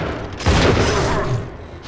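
A single heavy, booming gunshot goes off in the Bioshock 2 video game, followed by a rumbling tail that slowly fades. No voices are heard.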